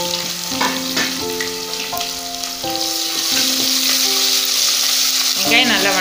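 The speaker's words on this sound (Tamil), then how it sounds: "நம்ம கட் பண்ணி வச்சிருக்க வெங்காயம் சேர்த்திக்கலாம்," Chopped big onions sizzling in hot oil with a little mint in a pan, cooking for a coriander biryani; a steady, close frying hiss runs throughout beneath louder background music.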